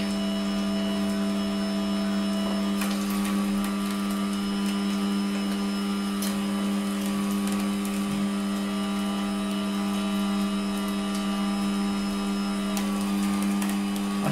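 An electric meat mincer grinding meat that is coming out as pulp, running as a steady, loud mechanical whine and hum with a few faint clicks, continuous and close throughout.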